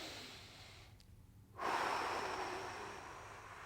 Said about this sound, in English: we're gonna start with some deep breathing